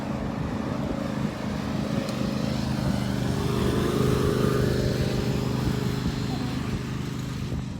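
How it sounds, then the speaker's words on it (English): A lawn mower runs steadily on a trail, a continuous engine drone holding at moderate loudness throughout, with faint voices in the background. "This dude is lawn mowing through the trails"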